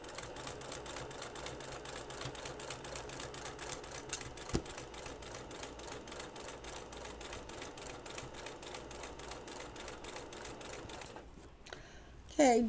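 Sewing machine stitching an in-the-hoop embroidery project, a rapid even mechanical chatter running steadily for most of the stretch before stopping near the end, close and moderately loud.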